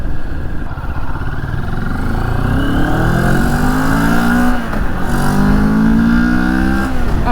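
A Moto Morini X-Cape 649 motorcycle engine revs up loudly and repeatedly, its pitch climbing in two long sweeps with a brief drop between, heard close and alone throughout.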